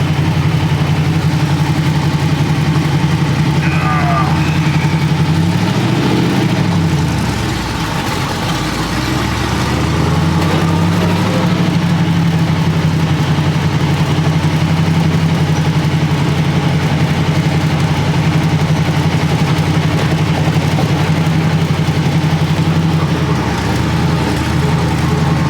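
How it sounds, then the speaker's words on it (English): A hot rod car engine runs at a fast idle set too high, a loud, steady, close drone that holds constant throughout with a brief dip partway through. "Make some adjustments to that fast idle. It's probably twice the RPM it should be running at."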